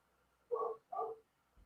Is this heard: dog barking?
yes